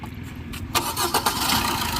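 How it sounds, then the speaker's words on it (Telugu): A 2012 Maruti Suzuki Ertiga ZDI diesel engine cranks and catches at about the three-quarter mark, then settles into a steady, close rumble after a quiet start. "అన్న ఒకసారి స్టార్ట్ చేయన్న"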